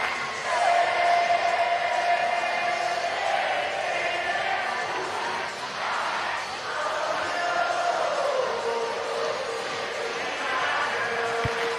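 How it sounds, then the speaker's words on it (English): A large outdoor crowd at the final home game of the Savannah Bananas season against the Firefighters roars and cheers in a sustained wash of noise, with whoops rising over the din and an announcer's voice carrying through. "Give yourselves a big round of applause and let's go Bananas!"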